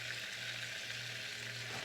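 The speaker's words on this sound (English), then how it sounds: "to my pan here, I have 2 tablespoons of butter, and I have 2 tablespoons of olive oil" Butter and olive oil, two tablespoons each, sizzling in a pan for a sauce, a steady soft crackling hiss with no breaks and no one talking.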